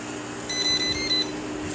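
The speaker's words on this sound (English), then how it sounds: "now I'm getting the food done alarm" A smoker's temperature controller sounds its food-done alarm while a stuffed jalapeno bacon-wrapped fattie cooks, a short burst of three quick electronic beeps followed by a lone beep over a steady low fan hum.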